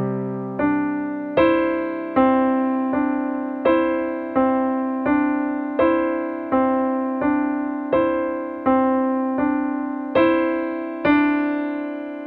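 Solo piano plays a repeating pattern: a broken-chord figure with about fifteen evenly spaced notes, each struck clearly and left to ring over sustained low tones. It is steady, close and moderately loud, with no voice.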